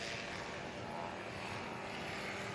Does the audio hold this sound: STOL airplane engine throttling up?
yes